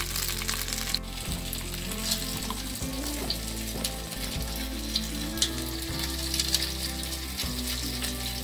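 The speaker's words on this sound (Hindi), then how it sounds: "पाँच दस मिनट तक इसको फ्राई करेंगे जब इसके अंदर मसाले तो चलिए पहले इसको अच्छे तरीके से फ्राई होने देते हैं" Masala sizzles and fries steadily in a hot pan for baigan bharta, a continuous crackling hiss with small spatters and occasional stirring, close and fairly loud throughout.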